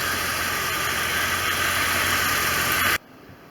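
A 1989 Corvette engine runs at a steady idle after an alternator replacement, a loud continuous hum with faint ticking throughout, stopping sharply near the end.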